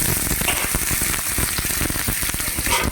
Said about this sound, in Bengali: কেটে রাখা আলুগুলো এর মধ্যে দিয়ে দিচ্ছি